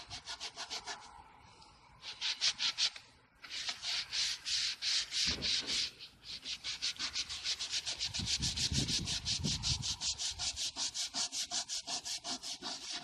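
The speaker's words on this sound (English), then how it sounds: "That blue scrubber thing is working a little bit better" A blue scrubber rubs hard against wall paneling to remove marker, making loud, rhythmic back-and-forth scrubbing strokes that come in quick repeated bursts close to the surface, with a brief pause early on.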